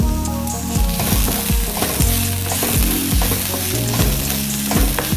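Whole spices dry-roast in a pan for a fish curry, with a rhythmic series of scraping, rattling stirs over a constant crackle and no voices.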